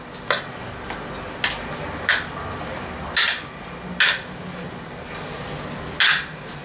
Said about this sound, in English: Now mix this both together.